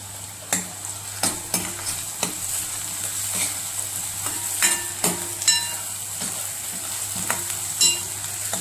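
Grated ginger and garlic fry in a pan for a Maharashtrian dhaba-style whole masoor dish, a soft steady sizzle broken by repeated sharp clicks and scrapes of stirring.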